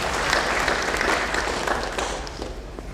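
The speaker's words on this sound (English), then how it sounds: "Let's clap for ourselves once again." Audience at an annual general meeting applauding themselves, a full, continuous burst of clapping from a large crowd, steady and loud throughout with no talking over it.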